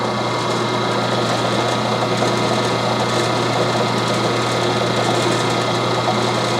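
Metal-cutting band saw running with coolant flow switched on, a constant close mechanical whir and hum with no pauses or talking.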